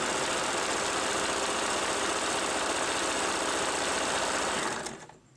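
An electric sewing machine run by a foot pedal hums and rattles continuously at steady speed, loud and close, then slows and stops as the pedal is released near the end.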